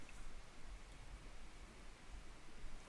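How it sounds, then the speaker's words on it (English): Rushing rapids and white water mixed with rain, a steady broadband wash of noise that stays dense and even throughout, with no voices. "kind of sound of rapids, white water and rain"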